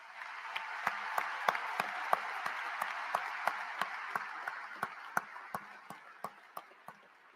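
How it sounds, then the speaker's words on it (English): Applause at a graduation ceremony, honouring the family members of the graduating class; a soft crowd patter with sharp, evenly spaced claps standing out, slowly tapering off. "join me in a round of applause for the family members of the"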